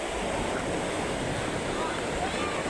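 Floodwater rushes through Barangay Sapang Bato in Angeles, a loud, steady roar of churning water that fills the whole stretch without pause, with no talk over it.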